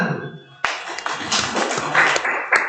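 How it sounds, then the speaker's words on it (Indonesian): An audience at a village administration training workshop breaks into applause after a quiet moment, with a sudden burst of many hands clapping and a few sharper claps standing out as it continues. "Tepuk tangan tuh."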